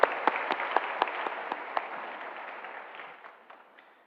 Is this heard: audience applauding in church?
yes